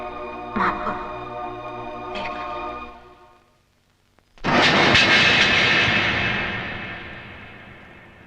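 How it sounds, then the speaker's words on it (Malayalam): An airplane roars loudly overhead, swelling suddenly after a brief near-silence and then slowly fading as it flies away, following a few earlier sounds. "ലേഹയുടെ ഫ്ലൈറ്റ് ഇപ്പൊ പോയി കാണും അല്ലേ?"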